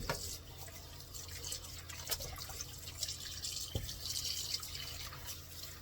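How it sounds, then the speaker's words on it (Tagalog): Something being rinsed under a running tap in a sink: a soft, fairly faint stream of water with scattered drips and splashes and small knocks as the item is handled, no speech. "Hugasan natin."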